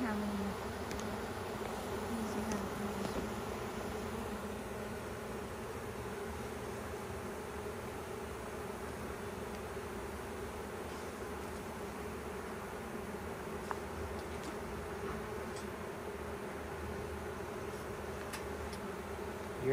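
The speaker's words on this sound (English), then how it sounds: "A lot more bees flying around, isn't there?" Honeybees fly around a hive at an apiary in Alaska, producing a sustained, dense buzzing drone that holds steady throughout, fairly close and continuous with occasional faint clicks.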